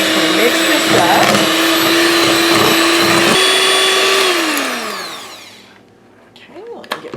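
Electric hand mixer with beaters whirring steadily through cream cheese, a loud continuous motor whine that drops in pitch and winds down near the end, followed by faint clinks.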